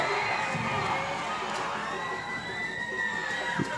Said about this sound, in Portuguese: a torcida do Guarani já grita é campeão